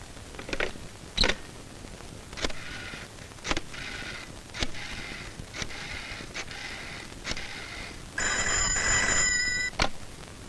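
A telephone rings in a scene from a 1994 romantic Indian film. Sharp clicks and taps come first, then a single bright, continuous ring near the end. Nobody speaks.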